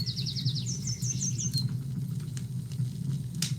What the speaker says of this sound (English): the birds are too loud